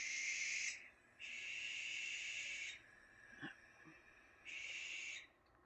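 Screaming owls calling at night let out three long, harsh, hissing screeches with short gaps between them, fairly near and loud against a quiet background, with a faint tap in one gap.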